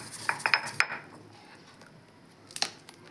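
Ginger pounded coarsely in a mortar while making a lemon drink, giving a quick run of sharp hard knocks followed by a pause and then a few more strikes, close and clear with no talk.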